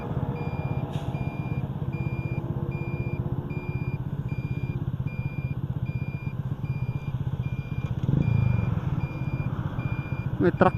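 A truck grinds past nearby with a rumbling engine while a loud rhythmic reversing beep repeats throughout, briefly swelling as it passes.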